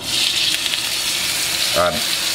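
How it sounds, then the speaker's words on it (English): A steak sears in a hot pan, giving a loud, steady sizzle and crackle that fills the whole stretch, with a short voice briefly rising over it near the end. "We want that searing sound, that nice sizzle of our steak."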